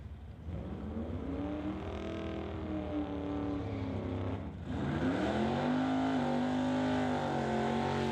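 A 2011 BMW drag race car launches down the strip with a loud, steady engine roar that climbs in pitch, dips briefly at a gear change, then pulls harder again.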